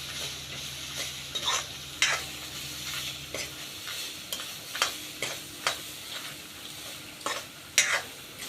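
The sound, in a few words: garlic and masala powder frying in a pan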